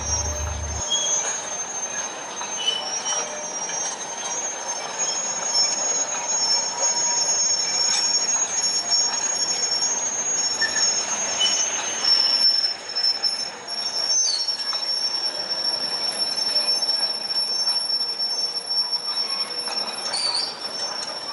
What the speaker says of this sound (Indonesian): lokomotif menarik rangkaian lori berisi tebu dari kebun